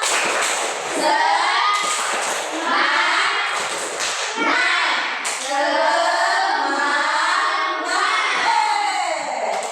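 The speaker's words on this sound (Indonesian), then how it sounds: "Segala kita tepuk semangat dulu ya" Schoolchildren in a classroom clap out the rhythmic tepuk semangat chant, bursts of hand claps and thumps mixed with their chanting voices, loud and close.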